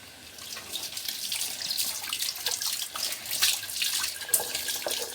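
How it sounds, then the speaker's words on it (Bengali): Running tap water splashes steadily into a sink while a tea pot is washed, a continuous close hiss with small clatters and drips shifting through it. "যে চায়ের পাতিলটা ধুচ্ছে।"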